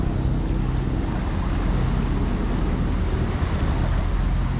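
Surf washes onto Naga Beach in Samar, a steady rushing roar of waves mixed with wind buffeting the microphone, continuous and fairly loud with no voices.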